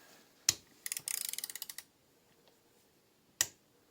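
A wrench clicks against a bolt on a Mercedes E320 CDI injector, with a short burst of rapid ratcheting clicks between two sharp isolated knocks, close up and quiet.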